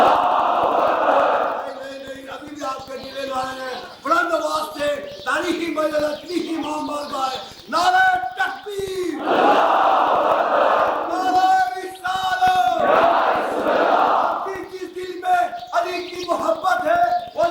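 A large mourning congregation at an imambargah during an 8 Muharram majlis roars slogans in unison in response to a speaker's call, loud surging chanted shouts rising and falling in waves, with a lead voice interjecting between them.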